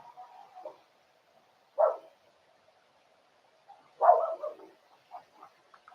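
A dog barks a few times in a quiet room, giving short, muffled, somewhat distant barks with gaps between them, followed by a cluster of quicker, softer yips.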